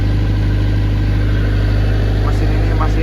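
A 40 kVA diesel generator set runs under a 52 ampere load, giving off a steady, loud, close-up engine drone with a constant low throb that holds unchanged from start to finish.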